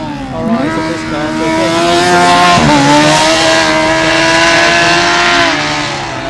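Karlsruhe's Formula Student combustion race car, number 21, runs an autocross course, its engine loud and close with a steady high whine that rises and falls through quick shifts and a sharp dip midway.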